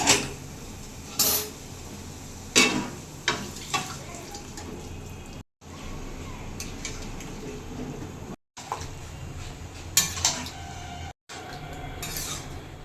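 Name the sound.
boiled chickpeas added to masala in a cooking pan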